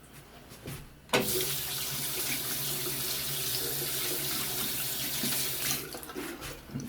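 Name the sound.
water running from a tap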